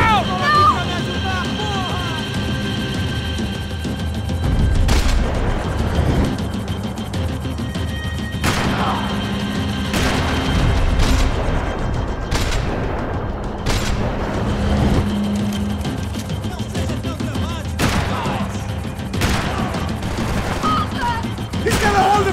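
Gunfire in Max Payne 3 during a vehicle chase: sharp shots crack out in scattered bursts over a steady engine and action din, loud and close, with shouting voices throughout.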